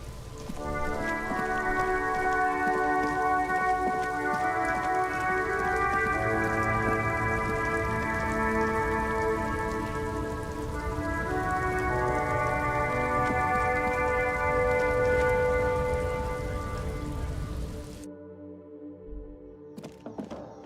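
Steady rain in the video game Disco Elysium falls as a continuous hiss beneath sustained layered tones, holding level for most of the stretch before cutting off abruptly near the end.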